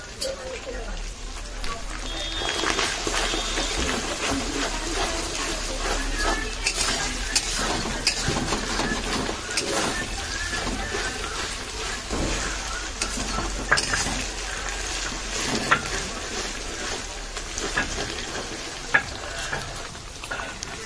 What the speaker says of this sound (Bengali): জিরে আর আদাটা একটু ভাজা ভাজা হয়ে গেছে, এখন রসুনটাও দিয়ে দেবো